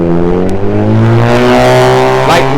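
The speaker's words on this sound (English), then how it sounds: "Like that loud ass engine back there." A loud car engine revs close by in a steady, throaty roar, its pitch climbing gradually and flaring near the end, with no talking over it.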